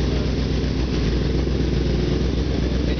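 A running engine idles steadily with a constant low rumbling throb, loud and close with no break or change in pace.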